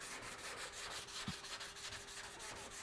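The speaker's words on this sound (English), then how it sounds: "you just want to let the sandpaper do the work" Epoxy primer on a car panel being sanded with 180-grit sandpaper, giving a steady, close, even rubbing hiss that runs unbroken throughout, with no speech.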